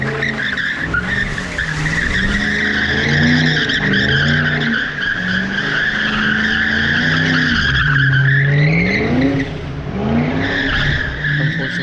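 A boosted Ford Mustang skids around cones in a wet parking lot, its engine droning and tires squealing continuously up close, pitch rising and falling as it slides through turns.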